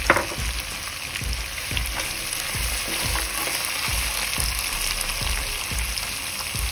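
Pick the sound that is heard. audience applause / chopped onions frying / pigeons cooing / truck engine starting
chopped onions frying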